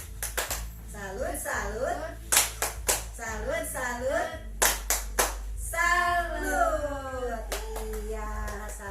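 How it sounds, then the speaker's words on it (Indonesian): A group of mothers performs the tepuk salut clapping routine: crisp rhythmic bursts of hand claps alternate with chanted, sing-song voices in a room. "Kalau ada jawabannya kita berikan tepuk salut."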